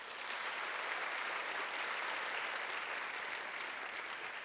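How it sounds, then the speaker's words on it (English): Steady, dense applause from an audience at a school district's new educator orientation, sustained evenly throughout with no talk over it. "how about another round of applause for all of them here?"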